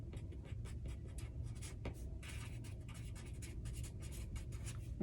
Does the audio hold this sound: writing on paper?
yes